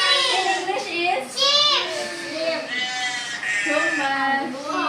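Sheep bleat in loud, wavering repeated cries, several calls in close succession, played as an animal sound for children guessing sounds, with children's voices around them.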